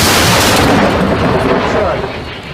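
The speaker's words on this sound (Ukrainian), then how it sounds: "Постріл!" A loud, heavy boom of an artillery gun firing near Toretsk, Donetsk region, the blast rolling out and slowly fading over a couple of seconds.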